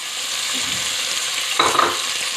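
Onion and capsicum frying in a pan on high heat for chicken Manchurian gravy, a steady close sizzle with a brief louder crackle and stir partway through, no talking.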